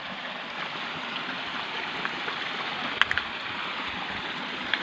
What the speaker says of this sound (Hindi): ये चश्मे का पानी, आवाज़ बता रही है, पानी फ्रेश आ रहा है